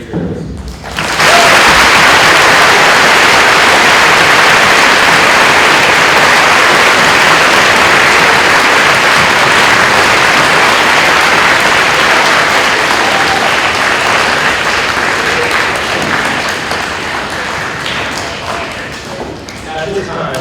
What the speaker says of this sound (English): We'd like to offer you one more round of applause